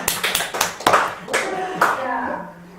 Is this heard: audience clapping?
yes